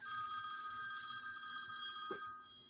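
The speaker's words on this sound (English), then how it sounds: "Y'all know my phone always got a ring." A telephone bell rings continuously at close range in a quiet room, with a short low thump near the end and no voices.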